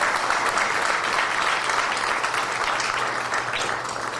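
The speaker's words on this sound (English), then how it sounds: "Please give them a round of applause." Steady, dense audience applause fills a Ganesh Utsav Hindu community gathering in Trinidad and Tobago, a loud, continuous crowd of hands clapping throughout without pause.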